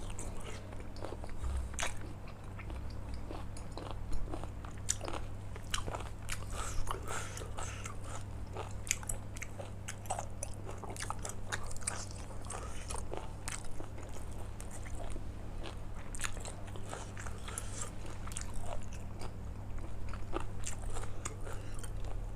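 Spicy Thai beef salad with sticky rice being bitten and chewed close up, a steady run of crisp crunchy bites and wet chewing over a low constant hum, quiet throughout.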